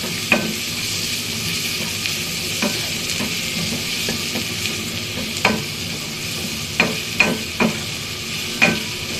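Onions and green chillies fry steadily in a pan, a continuous sizzle broken by several sharp clinks and scrapes of a stirring spoon, with no talk.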